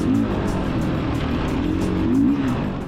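A Beta 500 RRS dirt bike engine drones loud and steady throughout a 2023 demo ride, a continuous close exhaust roar with no break.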